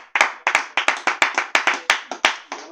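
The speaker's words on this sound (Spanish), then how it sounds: "vamos a dar un aplauso a la gloria de Dios." Rhythmic clapping from a church congregation, about a dozen sharp, loud, closely miked claps in a fairly steady beat, each with a short room echo and no talk over them.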